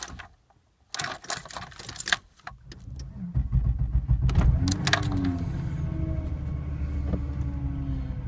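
A VW VR6 car engine cranks with a few clicks and whirs, catches, and settles into a steady running idle that holds to the end, fairly close and moderately loud.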